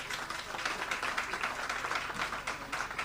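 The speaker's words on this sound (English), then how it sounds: "I think he deserves a round of applause." Audience clapping at a symposium on migration and social cohesion, an even, sustained patter of many hands at moderate level throughout, with no voices over it.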